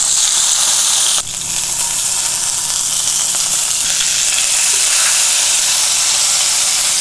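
A steak sears in a hot pan after being coated in confit oil, giving a loud, steady, close-up sizzle that crackles continuously with a brief dip early on.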